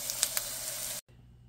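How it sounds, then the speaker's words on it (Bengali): Chopped onion and jalapeño sizzle in a hot pan, a bright steady hiss with a few sharper spits, then the sizzle cuts off abruptly and only a low quieter background remains. "এটা পেঁয়াজ আর এই জায়গার মরিচ, এটা আমার গাছের মরিচ না, এটা হ্যালোপিনো। 1 মিনিটের জন্য ভেজে নেব।"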